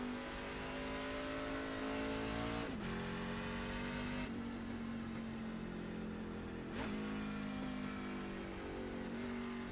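A pickup truck's engine revs hard in iRacing at Circuit of the Americas, its steady racing drone rising and falling with two sharp drops at shifts, loud and continuous with no voices.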